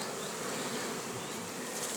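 Dense, steady buzzing of many bees, close and continuous, with no voices.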